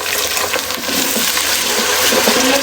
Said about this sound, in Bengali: এখন আমি এর মধ্যে পানি দিয়ে দেবো একটু।